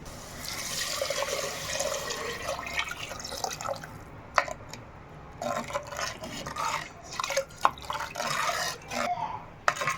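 Tamarind water splashing and trickling steadily into a clay pot, with irregular drips and spatters over a continuous watery pour, close up and no voices.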